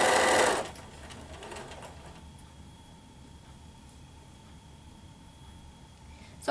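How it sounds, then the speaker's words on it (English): Quilt block rows are chain pieced on a sewing machine. A brief loud burst opens, then the machine settles into a steady, soft, even hum that carries on alone without any talking. "Now this whole row has been sewn together. I'm going to do that for the second row as well."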